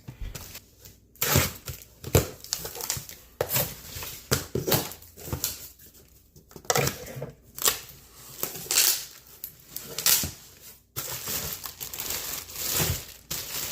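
Cardboard and plastic packaging crinkle, rustle and tear as a box of Bells of Steel gym equipment, including sandbags, is opened, in close bursts of handling noise with short pauses and no talking.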